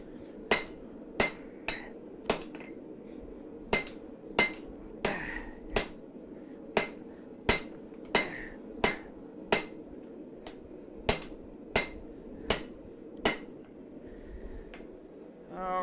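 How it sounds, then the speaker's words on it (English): A hammer rings out sharp metallic strikes on a knife blade's handle being forged, about twenty evenly spaced blows at a steady rhythm, loud and close. "Hammering out the handle always takes so long."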